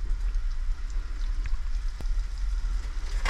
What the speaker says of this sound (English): Alright, we got some sizzle now.